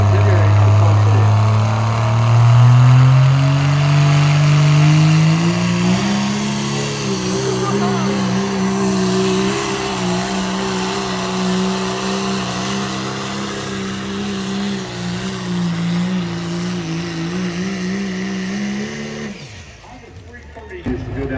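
A diesel pulling tractor from Columbia City, Indiana, roars at full throttle, its engine climbing in pitch during the first seconds and then holding a loud, steady, strained howl for the length of the run before cutting out near the end; an announcer talks over it.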